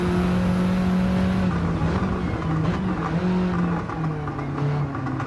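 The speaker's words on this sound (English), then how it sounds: "These VW engines just don't sound good to me." In Gran Turismo 7, a VW Polo GTI with a DSG-style gearbox revs and pulls through gears, its engine note rising and dropping with shifts, loud and continuous with no talking.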